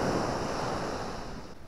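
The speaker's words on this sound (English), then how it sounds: "the sound from the ocean, from the sea" Sea surf breaking on the shore at Sutton on Sea in the evening, a steady broadband wash of waves close by with some wind rumble on the microphone, no voices.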